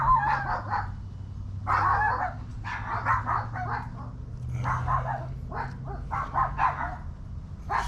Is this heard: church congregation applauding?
no